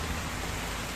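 Steady rain falls during a fishing outing, a dense, even hiss of drops filling the whole moment with no other sounds standing out.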